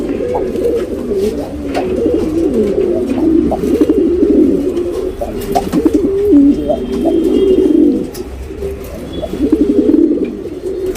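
Tournament pigeons in a Bangalore loft coo loudly and close by in overlapping, continuous throaty rolls with a few faint chirps, no voices.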